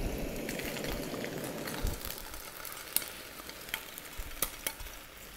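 Onions frying in a pan sizzle with a crackling hiss while a utensil scrapes and taps against the metal in scattered strokes, close and moderately quiet.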